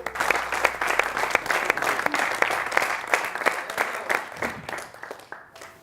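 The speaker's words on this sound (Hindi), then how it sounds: "इनके लिए जोरदार तालियां" Loud applause from an audience for Ashutosh at a retail success-story event, dense sustained clapping with a few sharp louder claps, thinning and fading out near the end.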